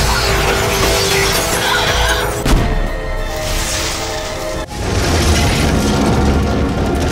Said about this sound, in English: After a loud explosion, all the birds were obliterated